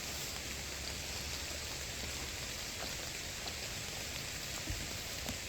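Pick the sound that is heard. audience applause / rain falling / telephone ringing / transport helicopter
rain falling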